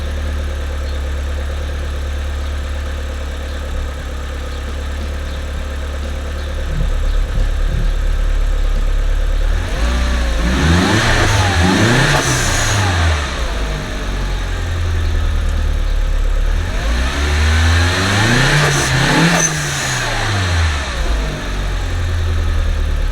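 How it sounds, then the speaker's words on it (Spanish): An Audi A3 1.8T engine idles steadily, then revs up twice with rising and falling roars, each rev ending in a sharp hiss from an aftermarket HKS or Forge blow-off valve. "ese fue el sonido de este tipo de válvula de alivio"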